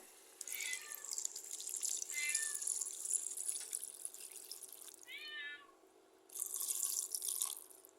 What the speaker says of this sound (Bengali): জল দিয়ে দিই হালকা।